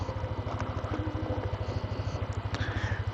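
A motorcycle engine idles close by while being parked on a hillside lookout spot, a steady low rhythmic thrum with light mechanical clatter throughout.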